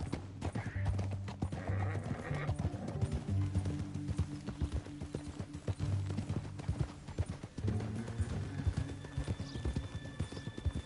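Steady clip-clop of galloping hooves runs throughout in Red Dead Redemption 2, with a horse neighing a couple of times over the rhythmic beat.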